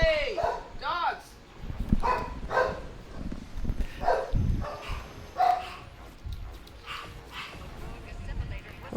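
Dogs keep barking in scattered bursts while a person talks over them, the barks loud and close, interleaved with the voice through the whole stretch.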